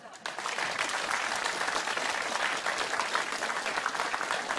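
Studio audience applause on a Norwegian entertainment show, a dense, even burst of clapping that starts suddenly and holds steady.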